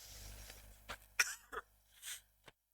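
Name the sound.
cough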